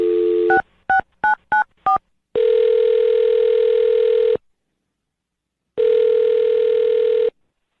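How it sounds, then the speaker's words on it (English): A telephone keypad beeps through five quick dialed tones, then two long steady ringback tones separated by a pause, loud and clear with no voices. "I'm going to dial her phone number right now"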